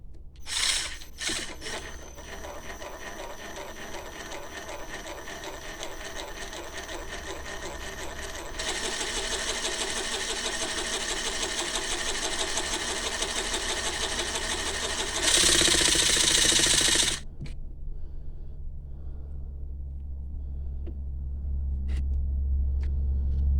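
A Ryobi cordless reciprocating saw, just reassembled after being stripped down, buzzes steadily in short test runs, rising to a louder, harsher burst near the end before cutting off, with no voices.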